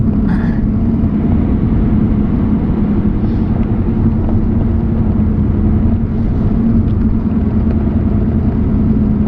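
A 2007 Acura TSX with a 6-speed manual, its four-cylinder engine droning steadily under acceleration, a loud continuous rumble with road noise inside the cabin and no talking.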